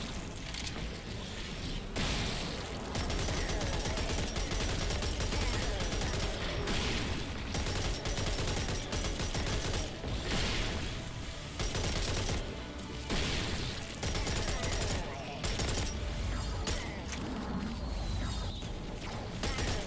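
Dense, continuous gunfire and explosive bursts from an assault rifle and grenades in the video game Serious Sam 4, loud and sustained across the whole stretch with brief dips between volleys.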